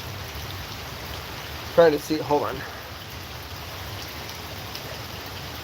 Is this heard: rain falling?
yes